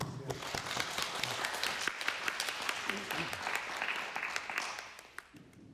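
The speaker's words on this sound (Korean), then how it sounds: "우리 박수로 하나님께 영광 한번 올립시다." Church congregation at a Sunday service in Berlin claps together in praise, a fairly soft, steady patter of many hands that thins out and fades near the end.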